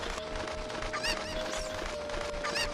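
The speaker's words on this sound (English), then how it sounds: "There are 7 Cuckoos in total to find for this lady" A Cuckoo chicken in Ocarina of Time gives a few short, bright clucks at about one and two and a half seconds, over a steady game tone and background sound.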